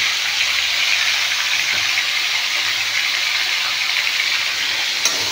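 Pumpkin curry sautés in a pan with salt and turmeric, giving a steady, close, even sizzle and hiss that holds throughout with one faint scrape of stirring near the end, and no voices.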